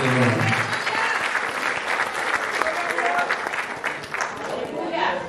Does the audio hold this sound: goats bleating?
no